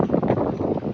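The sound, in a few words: strong wind on Southend pier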